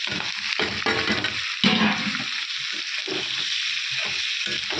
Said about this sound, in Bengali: লাল লাল করে ভেজে নিয়েছি। এবার পটলটা দিয়ে দেবো।